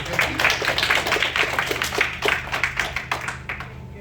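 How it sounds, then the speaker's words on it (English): Workshop audience giving a round of applause to welcome a guest speaker, fairly sparse individual claps in an uneven rhythm over a low steady hum, thinning out toward the end. "So round of applause. Welcome our guest."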